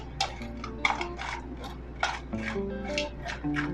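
Dried kachki fish dry-roasted in a pan without oil, with repeated scraping and clinking strokes of a utensil against the pan in an uneven rhythm, close and fairly quiet, no talking.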